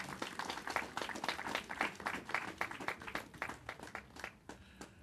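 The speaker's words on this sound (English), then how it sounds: "So I think they deserve a round of applause." An audience at a public gathering on Nevis applauds visiting St. Kitts government officials. Many hands clap at a moderate distance, steady and fairly loud for about four seconds, then the applause thins and fades out.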